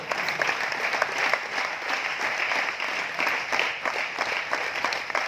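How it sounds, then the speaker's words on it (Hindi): An audience at a talk in Aurangabad, Maharashtra claps steadily for several seconds, a dense, even wash of applause with no talking. "ताली जोरदार वाली बजा लीजिए"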